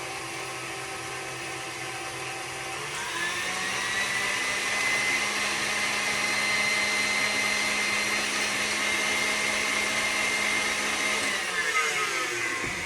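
An electric mixer runs steadily as eggs are blended into lemon cake batter, a loud continuous whirring hum that rises in pitch after a few seconds and holds, close, with no talking.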